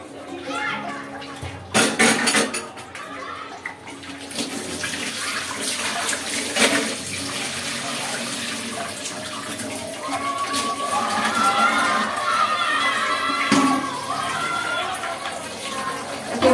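Pots and dishes being washed under running water, a steady wash of splashing and trickling with clatter throughout, while voices, including a child's, talk in the background.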